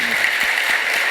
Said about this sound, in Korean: 우리 격려의 박수 한번 하고 하도록 하겠습니다